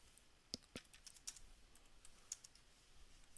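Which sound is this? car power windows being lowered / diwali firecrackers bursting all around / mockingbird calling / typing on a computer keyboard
typing on a computer keyboard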